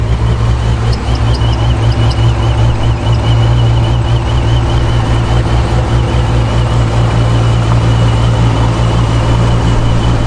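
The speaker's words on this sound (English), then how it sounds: "You can hear that belt squeaking because the AC is on." A car engine idles with the AC running, a steady low hum and drone with a faint high-pitched belt squeak repeating over it, close and continuous.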